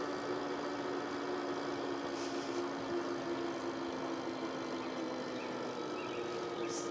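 An electric bike climbs a muddy hill on throttle alone in gear 1, its motor producing a steady, continuous hum with constant loudness alongside rolling and wind noise.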